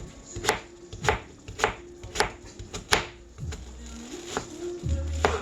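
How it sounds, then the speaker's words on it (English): A knife slicing onions thin on a cutting board, about a dozen sharp chops in an uneven rhythm, close and clear with no talking over it. "And I'm going to cut it again so we can have more onions"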